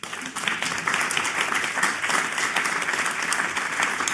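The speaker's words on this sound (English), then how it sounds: "join me in a round of applause for our wonderful panel" An audience at the National Voices of Medicare Summit gives a panel a sustained round of applause, a thick wash of clapping that starts abruptly and holds steady.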